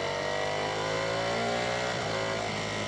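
The engine of a Ducati Panigale V4S on a test ride drones steadily and loudly with wind rush, dipping briefly near the end as the throttle closes.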